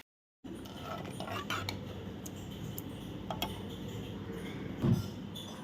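A spoon stirs cooked dal into bottle gourd sambar in a pot, giving faint, scattered metallic clinks and taps over a steady kitchen hiss, with one duller knock near the end.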